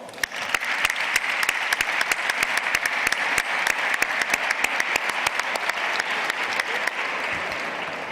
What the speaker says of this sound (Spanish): El meu aplaudiment.